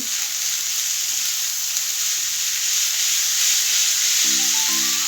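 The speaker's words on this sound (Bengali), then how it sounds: "সেই সসের মিক্সচারটা এতে দিয়ে দিচ্ছি, দিয়ে সব কিছু ভালো করে মিশিয়ে নেব" Hakka noodles sizzle and fry steadily in a pan as a sauce mixture is stirred through them, a loud continuous hiss with no talking.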